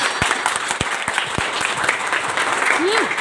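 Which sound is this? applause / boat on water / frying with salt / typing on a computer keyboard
applause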